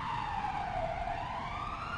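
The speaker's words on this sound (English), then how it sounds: "I am a police car." A siren wails in a brief descending sweep, steady and moderately loud, like a police car passing nearby.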